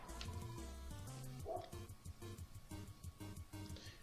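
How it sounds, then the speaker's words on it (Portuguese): A neighbour's dog gives short yips and whimpering barks in quick uneven bursts, heard at middle distance with no talk over them. "Cachorros latem"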